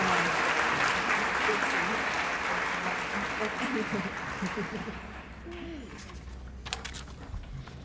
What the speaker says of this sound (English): Let's give one more round of applause to all of the sophomores.